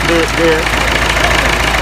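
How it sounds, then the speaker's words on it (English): A palm oil mill engine mashes palm fruit, giving a steady, loud mechanical drone with an even grinding rumble that runs unbroken throughout. "the engine inside here will mash it like it's trying to squeeze it"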